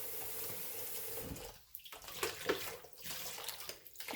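Tap water runs steadily into a sink while chicken feet are washed, with a brief break and splashy interruptions as the feet are handled; fairly quiet and close.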